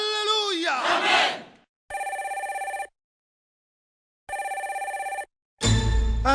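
A telephone bell rings in two long electronic trills separated by silence, set within a gospel song with a voice singing before and a crowd bursting in at the end.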